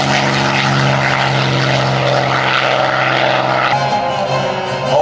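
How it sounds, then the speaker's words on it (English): A P-51 Mustang propeller fighter roars past at an airshow, a loud, steady piston-engine drone with dense harmonic buzz that shifts in pitch near the end as the plane passes close by. "P-51 Mustang."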